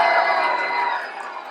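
A Mill Creek camp crowd cheers at a Michigan lumberjack show, a dense, fairly loud wash of shouting and whooping voices that tapers slightly.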